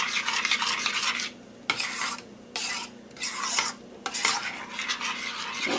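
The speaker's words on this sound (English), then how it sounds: "We want to stir this well" A utensil scrapes and stirs a shrimp soup mixture in a pot in repeated close, rasping strokes with short pauses between them, and no voices.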